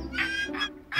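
A bird honking three times in quick succession, goose-like calls that are fairly close and clear, spaced evenly over about a second with no talking.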